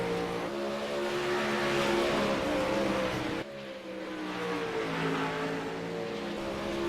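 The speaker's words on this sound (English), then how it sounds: "things are happening quick here, and as I'm talking about, more and more cars are out on track" Race cars rev and accelerate on the track during a racing event, engine tones climbing through gears in a loud rising whine, with a brief cut before another car's engine builds again.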